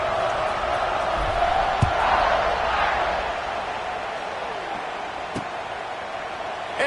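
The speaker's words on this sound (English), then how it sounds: "this crowd now ready to get behind them" A college football stadium crowd before kickoff gives a sustained, distant roar of cheering that eases slightly midway, with a faint thump or two, under commentary.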